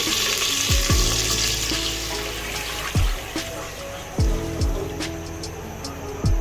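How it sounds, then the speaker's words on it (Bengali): Water pours into a pot of hot oil and soaked rice being cooked for pulao, giving a loud rushing splash and bubbling along with a few clanks of utensils against the pot. "এটা ফুটছে এখন আমি এটার মধ্যে পানি দিব"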